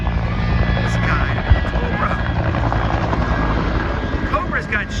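Cobra attack helicopter with shark teeth painted on its nose flying past at an air show, a loud, steady rotor roar with heavy low-end thumping and faint crowd voices beneath.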